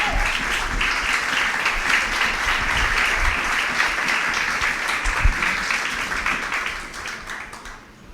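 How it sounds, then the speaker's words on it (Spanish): Sustained applause from a large church congregation after a sermon, a dense steady roar of clapping that holds for several seconds, then gradually tapers off. "el pueblo de Dios dice amén con un fuerte aplauso"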